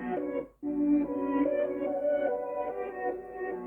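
Mellow beat with a dreamy reversed sound swelling into a short dropout, then sustained warm tones and soft harmonics carrying on evenly at a moderate, fairly quiet level.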